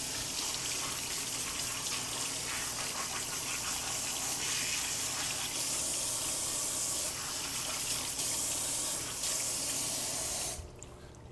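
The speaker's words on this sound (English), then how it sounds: "We'll rinse these off." A kitchen tap runs in a steady, close gush as fruit is rinsed beneath it, the flow holding constant for several seconds before cutting off near the end.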